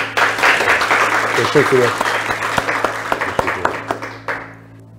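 Studio audience applause on a Turkish game show, a big burst of clapping that thins into scattered sharp claps and fades out, with a contestant's voice and a brief spoken thanks over it.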